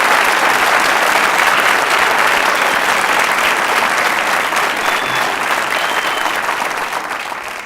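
Audience at a high school National Honor Society induction ceremony clapping in sustained, dense applause that fills the hall, then begins tapering off at the end.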